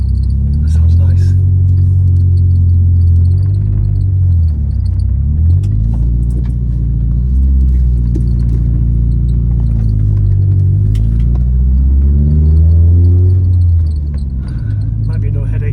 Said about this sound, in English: let's see what it sounds like inside.